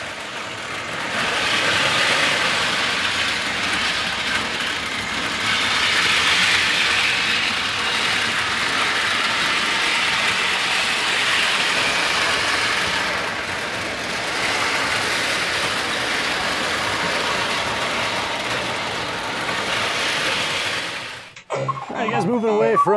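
Toy trains running on a dirty plastic track make a continuous, fairly loud whirring rumble that swells and dips unevenly, then cuts off abruptly near the end.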